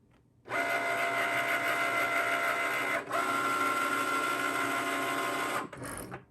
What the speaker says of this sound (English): what the Cricut is doing, it's just reading these registration marks that were printed around